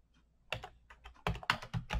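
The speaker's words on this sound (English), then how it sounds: "If I type" Keys tapped on a computer keyboard at close range, a short uneven burst of about a dozen crisp clicks with brief pauses between them, and no voices.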